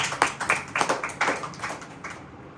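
A church congregation claps together in a steady, quick rhythm, with about nine soft, even beats that fade out at the end and no voices on top.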